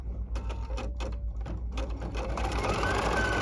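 A Viking Ruby 90 embroidery machine sews a tack-down stitch for an appliqué patch, a steady close mechanical whir with rhythmic needle clatter running throughout.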